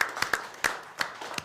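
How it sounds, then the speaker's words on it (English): At a town council meeting, a few sparse, separate handclaps ring out close by, irregular and thin rather than a full ovation. "give him a round of applause"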